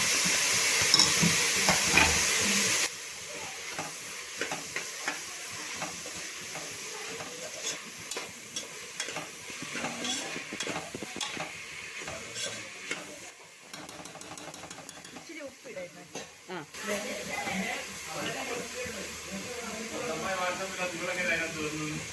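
Onion and tomato are sautéed for vermicelli upma. Near, continuous sizzling runs under scraping stirs, with a person talking at intervals.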